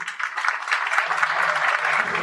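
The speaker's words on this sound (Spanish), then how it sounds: "el doctor Marco Antonio Álvarez, para que pido por favor un aplauso" Loud, dense applause from a university conference audience at a legal lecture, a sustained close wash of many hands clapping that fills the whole moment.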